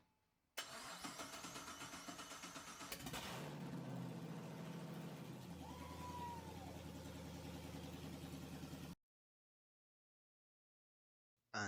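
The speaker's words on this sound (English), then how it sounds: "This will be the first crank." A Porsche 911 with a swapped LS V8 engine cranks briefly, then catches and settles into a steady close idle for several seconds before cutting off to silence.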